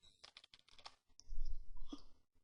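A quick, faint run of computer keyboard clicks as a diskpart command is typed while setting up a Windows 7 machine, followed by a low muffled thump.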